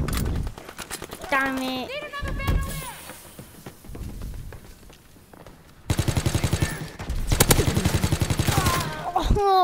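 Rapid bursts of gunfire from a PS4 shooting video game, with an early volley and a dense, rattling automatic stretch in the second half, mixed with a player's voice talking over the action.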